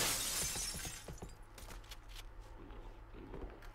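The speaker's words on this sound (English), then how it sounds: "He's gonna break some glass, let him know you're here." Glass shatters loudly in Halo: Combat Evolved Anniversary, a bright crashing burst followed by scattered tinkling fragments and a few light thuds and footsteps over a low game hum.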